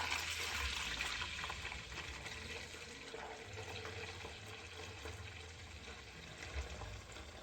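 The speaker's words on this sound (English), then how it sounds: "So we're gonna just pour all of that in here." About 5.5 pounds of water pours steadily into a container while agar is being prepared. The pour is a continuous, faint, rushing wash with no talking over it.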